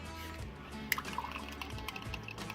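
A little more water poured into an Instant Pot pressure cooker to rinse remnants of concentrate, heard as soft trickling and dripping with a brief clink, quiet and close.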